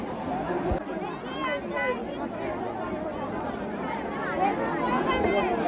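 A huge crowd of pilgrims at Haridwar fills the scene with dense, continuous chatter and babble, many voices overlapping close by at a steady loud level.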